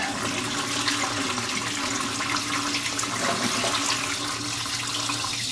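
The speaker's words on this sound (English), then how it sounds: "We're just going to drain off all that dirty water." Dirty water from a Frankford Arsenal tumbler pours into a basement sink in a steady, rushing splash that carries on loud and close throughout, with no talking.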